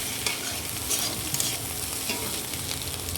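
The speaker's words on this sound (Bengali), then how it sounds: "এই যে চাউমিনটাও দেওয়া হয়ে যাচ্ছে, দেখো ডিমটা ভাজা হয়ে গেল" Chowmein and a fried egg are stir-fried together in a pan, producing a close, steady sizzle with rhythmic scraping and stirring throughout, with no voices.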